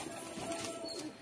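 Pigeons feeding on pieces of roti give a brief, soft, low cooing close by, lasting only a moment.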